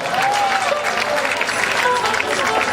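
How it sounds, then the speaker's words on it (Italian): A crowd applauding at a Neapolitan orchestra concert, a loud and continuous wash of clapping with a voice over it. "E facciamo un grande applauso al principe della risata, Antonio De Curtis, Totò!"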